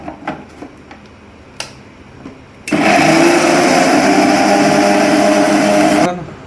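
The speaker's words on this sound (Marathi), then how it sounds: "मिक्सर लावूया मस्त एकदम." A kitchen mixer grinder whirs loudly as it purées tomatoes for a paneer dish in a Konkan village home. A few faint clicks and knocks come first, then a steady high-pitched motor roar runs for about three seconds and stops.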